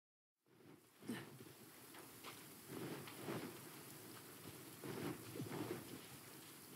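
Rain pouring in the Genshin Impact video game, a steady hiss of falling rain with scattered raindrop hits and low rumbling swells that begin abruptly after a moment of silence.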